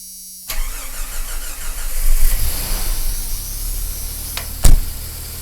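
A Jeep Cherokee XJ engine cranks after sitting with a new fuel pressure regulator, catching and settling into a steady mid-pitched idle. A sharp click or knock sounds near the end.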